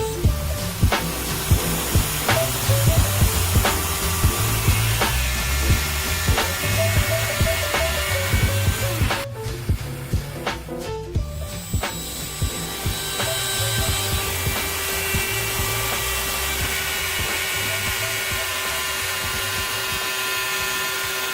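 A handheld wood router fitted with a grooving bit and a side guide whines steadily as it cuts a groove, with rhythmic ticks and chatter from the cut. A brief pause near the middle, then the steady high whine resumes.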